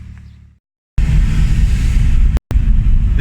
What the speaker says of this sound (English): This car literally just sounds like a vacuum cleaner.